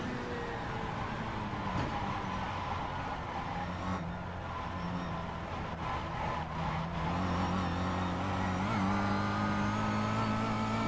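The engine of a Kia Cup race car at Sebring drones steadily and loudly from inside the car, rising slightly in pitch as it holds speed along the track.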